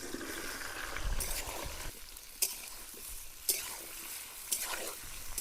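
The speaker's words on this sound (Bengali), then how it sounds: "রেসিপিটার টেস্ট বাড়ার জন্য প্রথমে শোলা কচুগুলা ভালো করে ভাজি নিব।" Shola taro pieces fry in hot oil in a wok, a steady broadband sizzle with a few sharp spatter pops and stirring scrapes, close and moderately loud with no talk.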